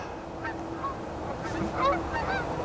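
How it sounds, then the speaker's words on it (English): Several geese honk at a distance, scattered calls over a quiet outdoor background. "Yeah, handful of geese and a flock."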